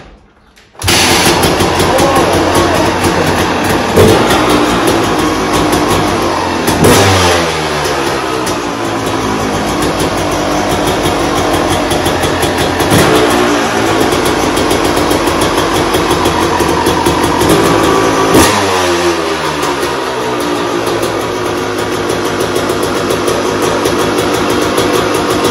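A Yamaha YZ 250 two-stroke dirt bike with a four-stroke chassis fires up abruptly and runs loud and close, its engine note rising and falling through several revving sweeps over a sustained buzzy idle.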